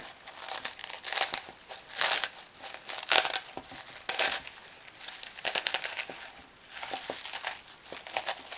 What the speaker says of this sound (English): I'm just going to peel out the plastic wrap.